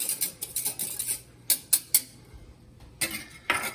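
Spoon knocking inside a pot of boiling lilac jelly as it is stirred, a few sharp clinks in quick clusters with quiet gaps between, close and fairly soft.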